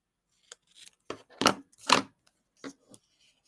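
Scissors snipping paper while trimming a scrapbook page, a few quiet, separate cuts spaced irregularly, with two louder snips in the middle and faint rustling between them.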